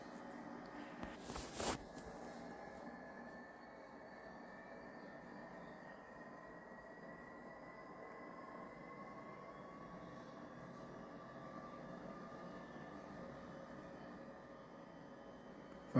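A quiet, steady train engine rumble with a faint drawn-out tonal whine, engine close to failing, plus a brief knock near the start and a clunk at the end.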